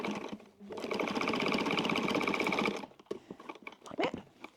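A 70-year-old Pfaff sewing machine stitches down a wallet seam in a rapid, even mechanical run of about two seconds, close by, followed by light handling clatter.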